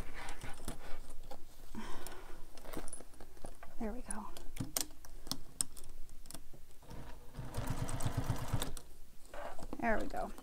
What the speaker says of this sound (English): you're stitching all the way to the next top stitching that you made